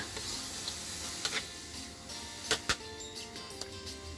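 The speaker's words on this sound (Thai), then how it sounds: "เอามาผัดให้เข้ากับ น้ำพริกที่เราปรุงนะคะ" Precooked minced pork being stir-fried with chili paste sizzles softly and continuously in the pan, broken by a few sharp utensil clicks and scrapes.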